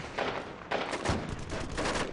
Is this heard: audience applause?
no